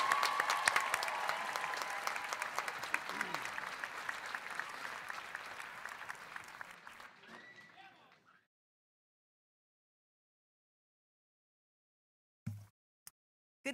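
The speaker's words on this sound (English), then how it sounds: "One more round of applause for all these cum laude honorees." A commencement audience at a 2019 Downingtown High School West graduation applauds cum laude honorees, a full crowd of clapping that tapers off over about eight seconds into silence, followed by a few brief knocks.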